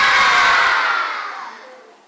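Children shouting at recess in a Madagascar school playground, a loud, bright wash of many young voices that fades away over a couple of seconds.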